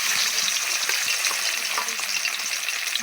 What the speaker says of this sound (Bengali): তেলটা আমার গরম হয়ে গেছে এবার আমি মাছের পিসগুলোকে দিয়ে দিচ্ছি